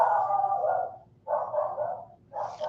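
A dog barks in three drawn-out, howling bursts with short gaps between them, moderately close and loud with no talking.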